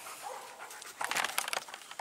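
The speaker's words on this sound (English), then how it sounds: "And my dog just showed up." A dog pants quickly and breathily at close range in a workshop where a deep rock drill is being repaired, the panting strongest in a short rhythmic burst midway.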